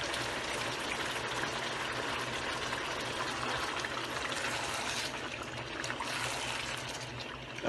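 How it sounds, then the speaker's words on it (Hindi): Yogurt goes into a cooking pot for white biryani, a continuous close pouring and trickling of liquid that runs steadily for several seconds with no voices. "दही डाल देंगे।"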